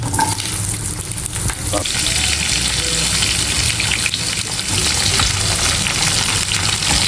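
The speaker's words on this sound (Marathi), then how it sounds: "आता टाकायचं आहे कैरी." Raw mango pieces go into a hot pan for a homemade sweet mango pickle and are stirred, giving a steady, loud, close sizzle and frying hiss with stirring scrapes throughout.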